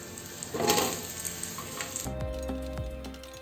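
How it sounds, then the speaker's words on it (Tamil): Onions sautéing in a pan for biryani, a soft steady sizzle with a burst of frying hiss early on, then a metallic clink and scraping of a utensil against the pan. "வெங்காயம் நல்லா பொன்னிறமாக வர வரைக்கும் நல்லா வதக்கிக்கணும்"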